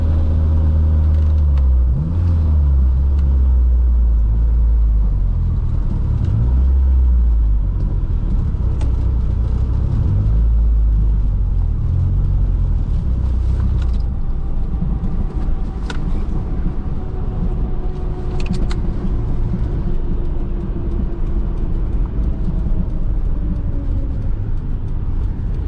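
A Mk2 16-valve turbocharged car (GTS on fresh R888R tyres), stuck in third gear, drones steadily from the cabin as it drives, with continuous loud low engine rumble and road noise throughout and a few faint higher whines.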